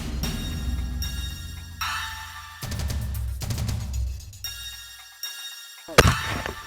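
A rifle gunshot during a fallow deer hunt: one sharp, loud report near the end, after several seconds of shifting outdoor background noise.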